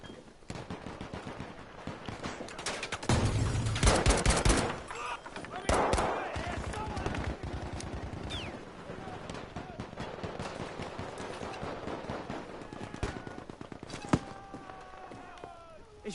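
Gunfire in Battlefield V on PS4, with scattered shots and a few heavier bursts of automatic fire at varying distances, plus footsteps and a voice speaking over parts of it.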